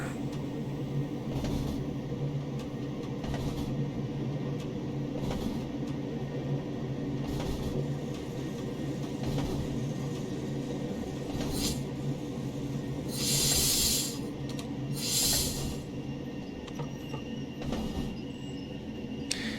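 Train driving into Altenstadt station on the Niddertalbahn in Germany at about 60 km/h, a steady rumbling cab drone with rhythmic rail clicks and occasional hissing bursts.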